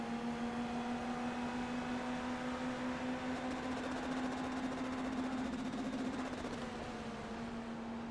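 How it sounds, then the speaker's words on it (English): An IndyCar NXT car in iRacing at Portland drones steadily at a high, constant pitch, held flat bouncing off its rev limiter down the back straightaway, with a faint rise and dip near the end. "You can hear Hill hitting the rev limiter down the back straightaway there"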